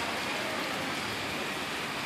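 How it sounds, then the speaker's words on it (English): Rain pours down on a street in Buenos Aires, a dense, even hiss of drops spattering the surface that holds steady and close throughout, with no voices over it. "But damn, look at that rain."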